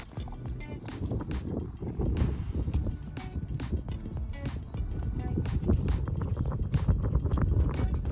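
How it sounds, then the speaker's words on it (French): Horses walk out to a paddock, hooves clip-clopping in a steady, continuous rhythm at moderate distance over a dense, noisy background, with faint talk mixed in. "j'ai sorti mes chevaux au paddock"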